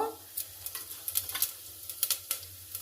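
Cumin seeds sizzling in ghee for ginger pongal, a quiet continuous frying hiss broken by a run of light crackles and spoon scrapes against the pan, close and fairly soft.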